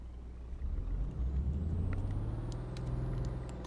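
A Scania truck in Euro Truck Simulator 2 drives with a low, steady engine drone that swells after a brief quieter start and stays rumbling at a moderate, even level. No one talks.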